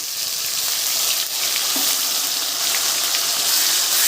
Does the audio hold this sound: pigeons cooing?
no